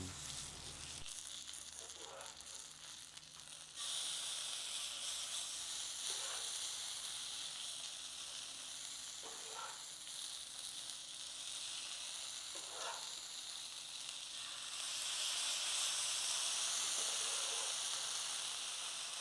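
Food sizzles in a cast iron pan with olive oil, a steady, quiet frying hiss that swells louder toward the end, with no talking.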